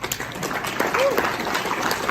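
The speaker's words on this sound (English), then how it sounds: "Is that great? Round of applause." An audience at the Litecoin Summit 2019 applauds, a short burst of clapping from the crowd with a voice audible over it.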